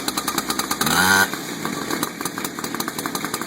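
A saw engine, just started and warming up, runs at high idle with a rapid pulsing buzz, briefly rising in a short rev near the start before settling back to an even, close, continuous idle.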